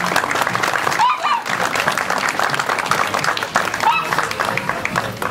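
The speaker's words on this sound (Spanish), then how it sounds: "quiero brindarle un aplauso" Crowd applause for a priest at an outdoor car-club meet, dense loud clapping sustained throughout with a few whistles and voices mixed in.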